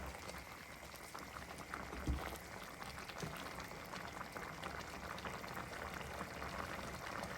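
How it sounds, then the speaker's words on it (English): Vegetable soup simmering gently in a pot, a low continuous bubbling hiss with faint liquid pops, quiet and steady throughout with no voices. "Just let it simmer for a few minutes"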